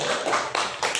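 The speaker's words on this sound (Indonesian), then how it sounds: "Tepuk tangan untuk Arsi." Classroom applause for a student after a presentation on turning waste into useful items, a brief burst of many hands clapping close by and fairly loud, with no talk over it.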